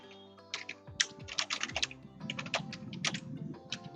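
Someone types on a computer keyboard in Notepad, a close, irregular run of crisp key clicks in quick bursts with short pauses, no one speaking.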